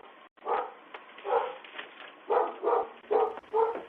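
Dogs barking at a home during a daytime porch package theft, a series of repeated barks in quick pairs, moderately close on a thin, low-quality recording.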